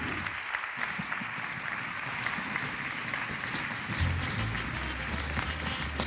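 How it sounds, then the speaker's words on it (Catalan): Audience applause for a volunteer named Laura at a magic show on a TEDx stage, a steady sustained clapping from a crowd with a slight swell near the end, no talk over it. "Fort l'aplaudiment per la Laura, sisplau."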